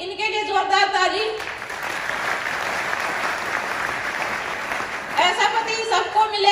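An audience breaks into loud applause for several seconds, a dense wash of clapping, with someone speaking before and after it.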